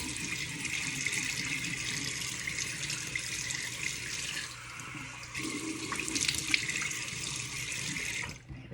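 Tap water runs steadily into a sink while a face is being washed, a continuous splashing rush with one brief dip in the middle before it cuts off at the end.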